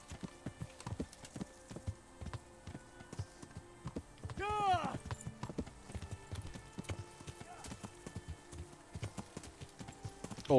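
Horse hooves clip-clop at a steady walking pace in Kingdom Come: Deliverance, with a clear whinny midway and occasional game sounds around it.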